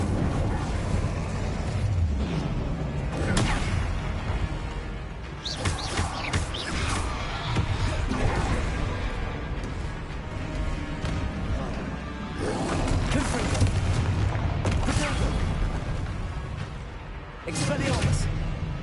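Confringo explosive spell blasts and other spell impacts from the Hogwarts Legacy video game burst loudly at intervals over steady game noise, while a player shouts throughout.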